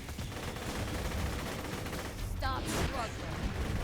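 Hail gun from Borderlands 2 firing in bursts, a dense rattle of shots sustained throughout under a dull game backdrop, with a brighter burst and whistling tones near the end.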